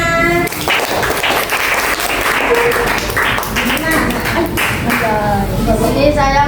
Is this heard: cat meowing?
no